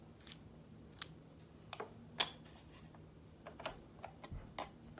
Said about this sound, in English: These are special cigar scissors, as you can see the little indent there. And they just cut the edge off.